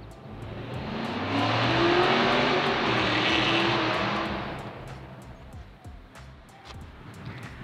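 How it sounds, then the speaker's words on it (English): A car passes close by on a street at night, its engine and tyre roar swelling to a loud peak and then fading away, with lighter traffic noise and a few clicks continuing afterwards. "You can hear the cars driving up and down."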